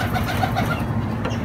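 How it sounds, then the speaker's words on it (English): A white pigeon being released indoors, with soft cooing and fluttering rustle close by over a loud, steady low rumble throughout. "now we are release this pigeon, right, Marvin?"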